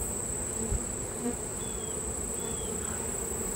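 A dense, steady buzzing of many honeybees from a hive frame, faint and continuous throughout with no voices.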